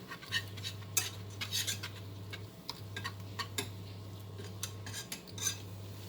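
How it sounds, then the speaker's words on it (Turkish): Flour and oil are stirred into a roux for béchamel sauce, heard as repeated metallic clicks and scrapes of a utensil against the pan, close and fairly faint over a steady low hum, with no voices. "şimdi unla yağımı kokusu çıkana kadar karıştıracağım güzelce"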